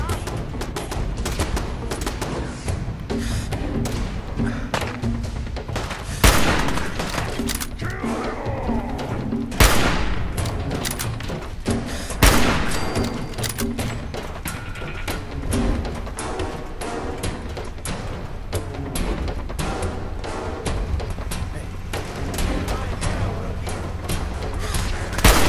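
Rapid, loud gunfire from a weapon in Fallout 4, bursts of shots and heavy thuds repeating throughout amid dense game noise.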